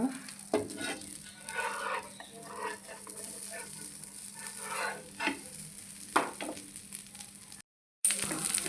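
Ragi flour dosa batter sizzling steadily on a hot pan, a continuous crackling fry with occasional louder spatters, briefly cut to silence near the end.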